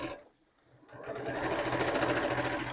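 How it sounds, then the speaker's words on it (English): A home sewing machine stitches fabric for a book sleeve, starting after a short quiet moment and then running in a fast, steady mechanical chatter of needle strokes up close. "I'm just going to show you that I use the sewing machine foot"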